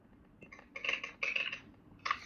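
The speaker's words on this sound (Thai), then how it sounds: "ทุกคนเราฟังเสียง ASMR จากคีย์บอร์ดเพื่อนนะครับ" Keys on a computer keyboard clack in short, crisp bursts, a few quick taps at a time with brief gaps, close and fairly quiet, with no one speaking.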